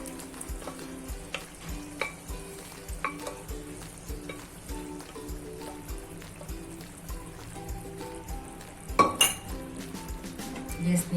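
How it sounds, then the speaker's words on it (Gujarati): Boiled bottle gourd goes into a spiced gravy in a pan and is stirred, with repeated clinks and scrapes of a utensil against the pan over a steady frying sizzle and no talking. "હવે આપણે બાફેલી દૂધી છે તેમાં એડ કરી દેશું."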